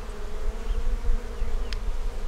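Honeybees buzz steadily and fairly loudly through a single nuc hive inspection, a continuous close droning hum with no talk over it.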